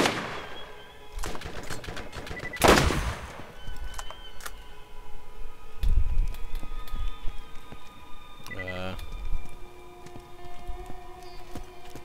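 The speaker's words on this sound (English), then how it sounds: "And you're shooting me." Gunfire from the video game Borderlands: a few sharp bursts of shots, one loud volley near the start and another mid-clip, over a steady game ambience with no speech.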